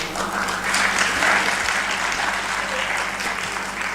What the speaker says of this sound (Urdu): میں آپ سب سے ریکویسٹ کروں گا کہ آپ سیبا اور بلال بھائی کے لیے بہت ساری تالیاں بجائیں.